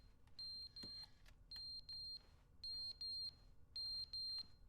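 Pairs of shrill electronic beeps from a smoke detector in the video game The Stanley Parable repeat at an even pace, loud and clear with no voices over them.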